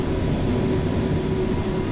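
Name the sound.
subway train passing in video game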